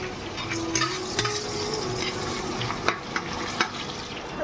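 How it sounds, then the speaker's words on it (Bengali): Chicken with green chilies cooking in a pan, giving a dense continuous sizzle with a few stirring knocks and scrapes, close by and without speech. "কাঁচা লঙ্কা দিয়ে চিকেন করছি"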